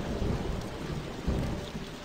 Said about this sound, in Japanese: 窓の外からもものすごい雨音が聞こえてくる。